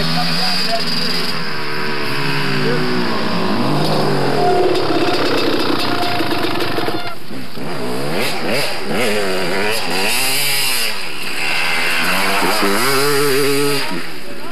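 A dirt bike engine roars loudly and close on an enduro trail at a 1991 ISDE qualifier in Trask, Oregon, its pitch climbing and dropping as the rider gets on and off the throttle throughout.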